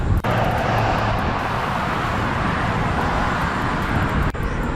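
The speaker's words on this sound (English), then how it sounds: "As some of these bigger vehicles go by me" Loud, steady roaring rush of wind and road noise as bigger vehicles pass close by a rider cruising at 22 mph on a Ninebot Z10 electric unicycle, with a brief dip near the start and end.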